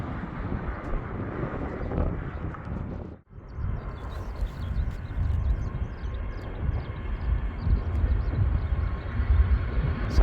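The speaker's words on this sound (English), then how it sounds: "I see there's a Korean Airlines taxiing out to the runway, so I want to see that take off." Korean Airlines jet rumbling at an airport near Kagoshima, a steady, loud, broadband roar that continues throughout, swelling slightly toward the end, with wind buffeting the microphone and one brief dropout early on.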